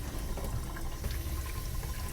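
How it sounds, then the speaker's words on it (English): Water pours out of a Paterson film developing tank in a steady, faint splashing stream with no talk. "Pour out the last bit of water."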